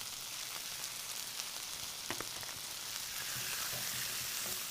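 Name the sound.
beef strips sizzling in a wok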